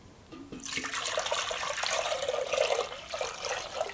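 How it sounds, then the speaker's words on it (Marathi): Water gushes steadily into a clay pot after a brief clatter, a continuous splashing pour that runs on for several seconds. "इकडं आपण एक मातीचं भांडं घेतलेले आहे त्यामध्ये आपण पाणी घेऊया"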